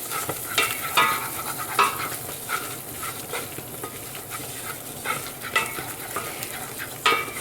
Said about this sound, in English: And I stir that up until it's a nice thick paste.